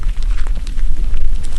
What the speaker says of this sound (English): This is the sound of a dozen black beetles, each the size of my fingernail, scampering about in a plastic baggie.